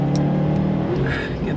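A car with a six-speed gearbox powers out of a corner on a race track. The engine note rises briefly and loudly, with a voice over it.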